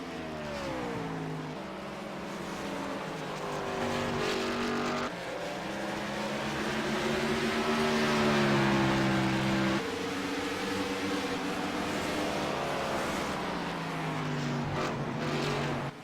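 Race cars stream past on an oval track during a stock car race, engines roaring loud and continuous with rising and falling pitch as several pass in succession, no voices over them.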